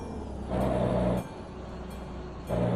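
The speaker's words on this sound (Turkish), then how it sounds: "Arada tren yolunun sesini duyuyoruz" A low rumbling train engine drones steadily, swelling louder in two stretches with a faint whine, like a railway passing in the Euro Truck Simulator 2 soundscape.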